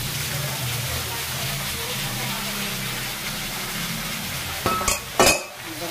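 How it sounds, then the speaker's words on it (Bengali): Cut cabbage pieces frying in a pan, a steady sizzle running throughout, ending with a few clattering knocks of utensils or cookware. "এই যে বাঁধাকপির আলু কেটে রেখেছি, দেখতে পাচ্ছেন বাঁধাকপির আলুগুলো ভেজে নিই"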